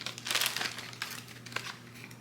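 A plastic bag holding a YSL makeup product, shade 02 Buff Dune, crinkles and rustles up close in a burst of crackles that thins into a few scattered crinkles, with no speech.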